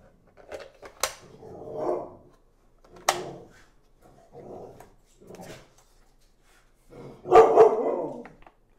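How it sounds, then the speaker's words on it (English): A dog barks in short bursts, several sharp woofs spaced a second or two apart, with a louder, closer cluster of barks at the end, indoors with no talking. "the dog was barking"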